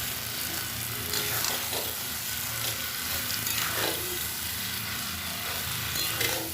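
Fried potato and green jackfruit are sautéed in a pan with prawns, giving a close, continuous sizzle with rhythmic scraping and stirring strokes throughout.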